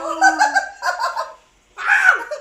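A person imitates a hen with a few bursts of clucking, throaty bird-like calls separated by short pauses.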